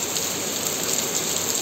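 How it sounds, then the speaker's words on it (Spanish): Heavy rain pouring down in Madrid, a dense, steady hiss of water hitting the ground, loud and close throughout with no voices. "está lloviendo fuerte, pero fuerte, muchísimo"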